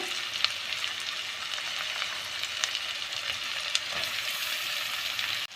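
Onions for egg bhurji fry steadily in a pan, giving a close, continuous sizzle with scattered crackles and pops throughout.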